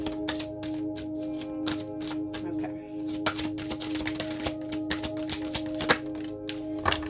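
Tarot cards being shuffled in quick, crisp riffles and taps, close to the microphone, over a steady low hum.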